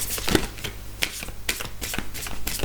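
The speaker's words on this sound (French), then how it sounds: "Je décale les cartes." Tarot cards shuffled by hand during a cartomancy reading, a run of quick papery flicks and riffles with short sharp snaps, close and moderately loud, with no talking.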